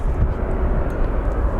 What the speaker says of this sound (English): So Spirit Airline, aka Banana plane, is headed to, I believe, Vegas.